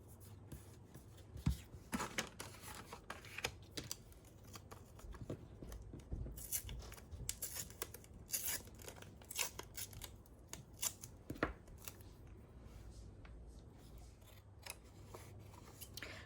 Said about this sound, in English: all the overhanging bits, I'll trim them off, of course